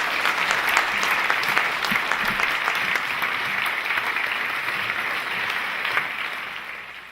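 A conference audience claps at a tribute event, a dense, sustained round of applause from many hands that stays loud and then tapers slightly at the end.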